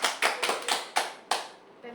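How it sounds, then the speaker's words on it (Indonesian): A short burst of hand claps, about six distinct slaps in quick uneven rhythm, close and fairly crisp, fading out near the end of two seconds with no voices over them. "Tepuk tangan lagi."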